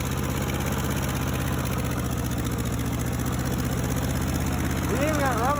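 A worn-out Ford 8N tractor engine running steadily with a low rumbling drone and rapid pulsing throb, loud and close throughout, with a voice shouting briefly near the end.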